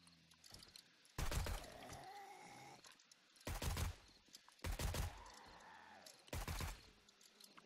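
Gunfire in the video game 7 Days to Die, with four loud, broad bursts of shots separated by quieter stretches of game ambience, and no voice over them.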